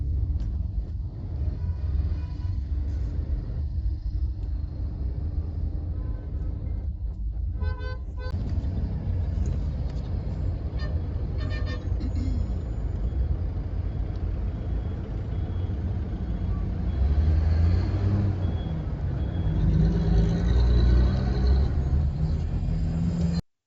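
Dense road traffic crawls through a 10 km jam on the way to Kolhapur, with a steady rumble of car and truck engines, scattered horn toots and occasional beeps, swelling louder toward the end.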